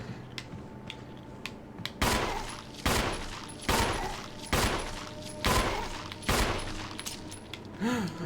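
Gunshots in Resident Evil Remake ring out one at a time at a steady pace, about seven loud separate reports with short decaying tails over a quiet hum.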